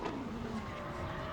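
A drift car with an RB25 engine on a British Drift Championship pro qualifying run, a steady distant engine roar with a faint tyre squeal, alone with no talk.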